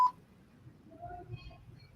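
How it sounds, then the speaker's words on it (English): A single short electronic beep from a button press on a live auction stream sounds at the very start, then only faint low background noise follows. "heard a beep and then nothing"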